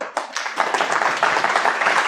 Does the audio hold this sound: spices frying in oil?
no